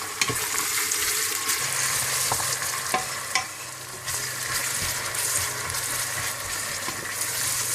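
Onions brown in desi ghee for nihari with a constant close sizzle and bubbling, broken by occasional scraping stirs of a spoon against the pot.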